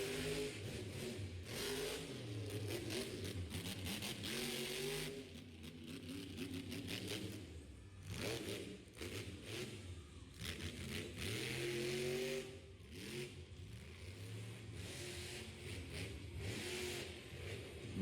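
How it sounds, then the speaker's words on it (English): A monster truck's big engine revs at a motorsports show in Miami, Oklahoma, heard from a distance as a fairly faint, continuous roar that surges and drops in pitch with repeated throttle bursts. "gonna turn the truck around"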